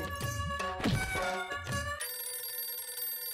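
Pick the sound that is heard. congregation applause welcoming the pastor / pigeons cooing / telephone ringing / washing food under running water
telephone ringing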